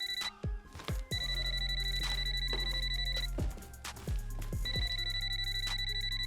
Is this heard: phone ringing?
yes